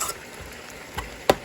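Suya meat sizzles quietly in a pan, a soft steady fry with a couple of faint utensil clicks, close and brief, with no speech.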